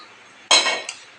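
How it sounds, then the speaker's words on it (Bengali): A metal frying pan is set down on a stove with one sharp clank, followed by a lighter clink as it settles. "প্যানটা এখন আমি বসিয়েও দিয়েছি।"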